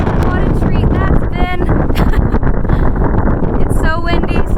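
Hurricane-force wind roars across the summit of Mount Madison on the Appalachian Trail, loud and constant with heavy microphone buffeting, while a voice speaks through it.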